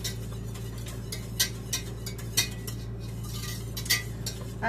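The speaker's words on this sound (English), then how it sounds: "I'm going to do a little and whisk and a little and whisk" Metal whisk clinking against a pot as broth is worked into a roux for carrot soup, a few light sharp taps spread over a steady low hum, fairly quiet and close.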